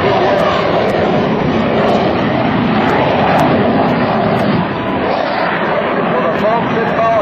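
An F/A-18F Super Hornet roars with afterburners during an air show demo at Hampton Roads, a loud continuous broadband jet roar filling the whole stretch, with an announcer talking over it.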